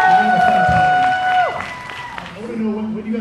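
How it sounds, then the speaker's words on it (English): An audience at a panel event applauds and cheers loudly and continuously, with tonal music and a voice running underneath the crowd noise. "One big round of applause for our panel right here."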